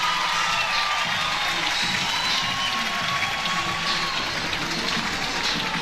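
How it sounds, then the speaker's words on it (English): A sellout college softball stadium crowd at an Oklahoma vs Texas game cheers and applauds steadily and loudly throughout, a dense continuous roar of clapping and voices. "every pitch, this crowd is locked in right now"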